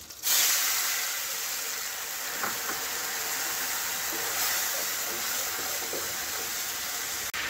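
Kashmiri chilli and turmeric paste hisses in hot oil in a pan while aubergine and hilsa fish curry cooks, a steady broad sizzle with a few faint clinks, fairly quiet and continuous.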